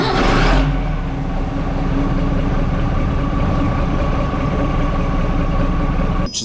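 A 1980s Dennis DS fire engine's heavy diesel engine idles steadily with a deep, continuous rumble after a brief louder burst at starting, ending with a short click.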